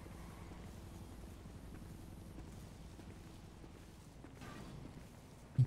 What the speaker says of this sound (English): I hear the helicopter. There it goes.